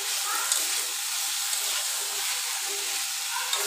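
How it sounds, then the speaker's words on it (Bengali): Prawns frying in a pan with onion and spices, a steady broad hiss of hot oil with small pops, close and continuous, with no speech. "জাস্ট আগে আমি পেঁয়াজের সাথে মাছটা ভেজে নিচ্ছি মশলা দিয়ে।"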